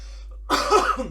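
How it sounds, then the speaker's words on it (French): A single harsh cough bursts out close to the microphone after a moment of near silence, loud and throaty with a short rasping tail. "Je sais pas pourquoi je tousse."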